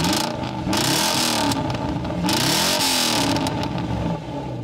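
A 4-liter V8 in an old Jaguar XK8 luxury convertible revs hard, rising and falling in repeated loud sweeps with a rough, throaty tone and no voices.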